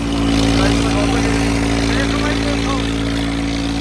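Two Swaraj tractors, a 969 and an 855, are hitched together to pull out a trolley loaded with sand that is stuck in soil. Their diesel engines drone loud and close with a steady throbbing pulse that never lets up.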